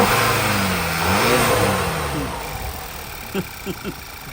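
A car engine revs up and drops back after a PCV valve test, rising and falling loudly nearby before settling to an idle, while someone speaks briefly near the end.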